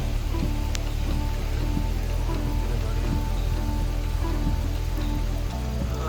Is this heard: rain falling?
yes